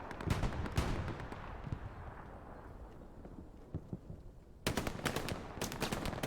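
Machine gun fire in a friendly competitive video game match: dense, rattling bursts crackle at the start, a quieter stretch of scattered distant shots follows, then loud sustained firing returns near the end.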